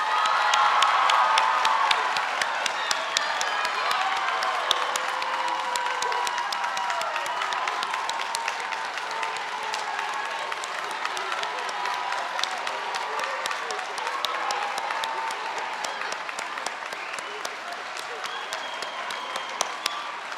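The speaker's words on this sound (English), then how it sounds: "Let's all clap for the class of 2023." A commencement audience applauds and cheers the graduating class of 2023, with steady sustained clapping and scattered whoops from a large crowd heard at a moderate distance throughout.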